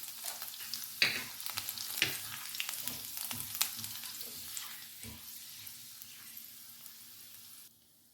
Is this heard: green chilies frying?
yes